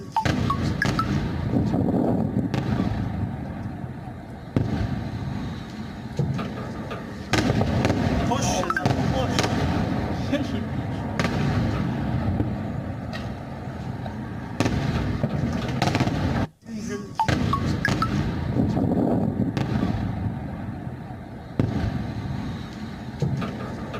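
Missile explosions over Israel during an Iranian missile barrage, heard as sustained loud rumbling booms and crackling bursts with sharp transients, a brief dropout midway, and background voices throughout.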